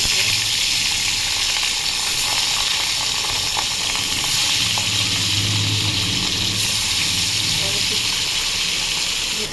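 Fish sizzle and spit as they fry in hot oil, making a loud, continuous crackling hiss that stays dense and steady from start to finish.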